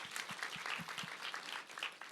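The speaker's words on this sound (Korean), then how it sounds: "다시 한번 박수 한번 좀 드리도록 하겠습니다." A church youth congregation at a winter retreat evening service claps, with loud, fairly close hand-claps rolling in a busy, uneven patter for a couple of seconds, with no speech over it.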